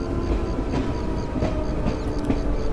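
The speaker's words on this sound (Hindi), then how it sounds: "अब जो है हम लोग ट्रेन को यहाँ पे रुकवा देते हैं" An EMU local train on the Durgapur–Asansol line in India's Eastern Railways slowing into a station, with a steady low rumble of wheels on rail and faint clicks, continuous and fairly loud throughout, no talk.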